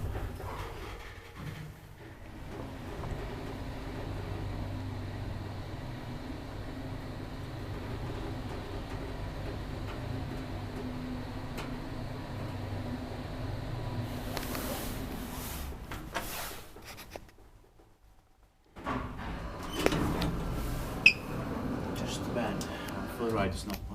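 An old Otis traction elevator runs in a Helsinki apartment building, with a low steady motor hum and rumble for most of the ride, a brief silence, then door and mechanical clunks and rattles near the end.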